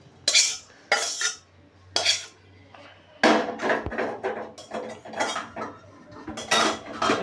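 Cooked data greens and coriander leaves being ground together with salt, heard as clinking and scraping strokes of utensil against a dish, some isolated knocks and then a busier run of clattering, fairly close and moderately loud.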